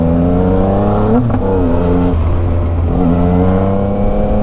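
A Yamaha Niken three-wheeled motorcycle with a straight pipe exhaust revs hard at high RPM, a loud, raspy engine drone that rises and dips in pitch as the throttle is blipped.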